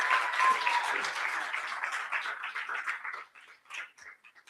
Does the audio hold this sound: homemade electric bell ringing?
no